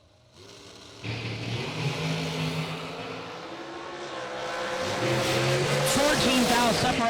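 A Mickey Thompson dragster races at a bracket racing drag strip, engines launching abruptly and revving hard, the roar building louder over a voice talking.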